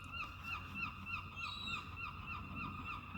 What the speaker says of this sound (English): You can always hear the birds here.